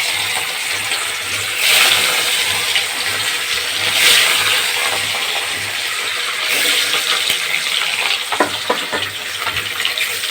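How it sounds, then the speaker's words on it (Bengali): Pieces of katla fish sizzle loudly in hot oil in a wok, a steady broad crackle with a few brief bursts and clinks, no voices. "এবার আমি মাছটা খুব একটা বেশি ভাজবো না হালকা করে ভেজে নেবো মাছটা আমি ছেড়ে দিলাম"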